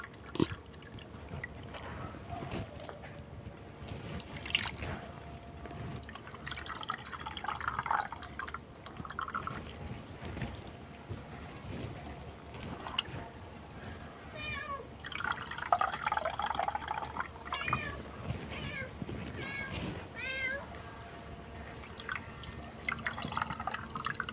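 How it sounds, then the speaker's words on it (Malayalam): Cleaned clams being washed in water and scooped out by hand, faint splashing and dripping with wet shell clatter coming in irregular bursts, quiet and close. "നമുക്കിതൊന്ന് നന്നായിട്ട് വെള്ളത്തിലിട്ട് കഴുകി വാരിയെടുക്കാം"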